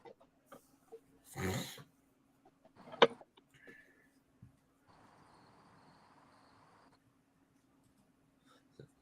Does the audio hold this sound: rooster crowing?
yes